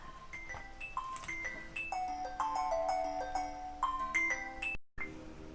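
A phone rings with an incoming call, playing a melodic chime ringtone of bright, clustered notes that repeats at a moderate level before cutting off abruptly near the end.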